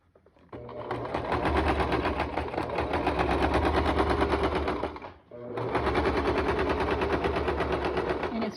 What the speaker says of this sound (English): we're going to sew across